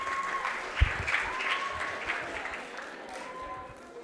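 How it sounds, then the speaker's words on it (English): Audience clapping at a school reading week awards ceremony, a fairly loud burst of many hands that gradually thins and fades toward the end, with faint murmuring underneath. "can we clap for her?"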